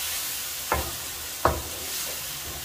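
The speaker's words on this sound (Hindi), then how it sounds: "इसको भी अच्छी तरह फ्राई करूंगा चिकन के साथ।" Tomato puree frying with chicken for a restaurant-style jalfrezi, a soft constant sizzle broken by two sharp scraping stirs of a utensil, then quieter stirring at the end, with no talk.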